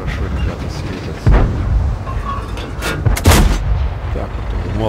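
Tank cannon shots in World of Tanks, playing a T-34-85, firing as several loud, close booms with cracking reports, two clustered bursts standing out over a continuous rumbling engine and battle background.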